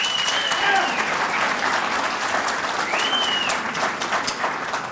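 Audience applause at a 2004 Democratic presidential candidates forum, a dense, steady clatter of many hands that holds loud through the whole stretch, with a few voices mixed into the crowd.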